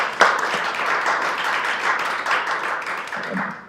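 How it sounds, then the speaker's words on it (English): An audience at a school board candidate forum gives a round of applause, a steady dense clapping from many hands in a room, fairly close and sustained without a break, with no talking. "Can we give our candidates a round of applause"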